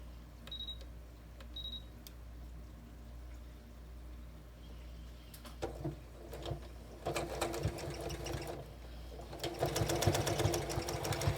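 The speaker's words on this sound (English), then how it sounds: "I am just running the end of this lace off of this little groove in my presser foot." Sewing machine stitching lace onto a memory pillow made from clothing, starting with a few faint clicks and quiet hum, then running in bursts of rapid close mechanical whirring that grows louder toward the end.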